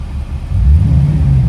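A Ford sedan resto-mod fitted with an LT1 Corvette V8 idles after a long run with the AC on high, a loud, steady low rumble close by that swells slightly partway through, with no talking.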